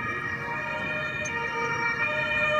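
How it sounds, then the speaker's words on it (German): An ambulance siren wails steadily with sustained tonal bands over low traffic rumble, loud and continuous throughout without voices. "Jetzt kommt noch ein Krankenwagen"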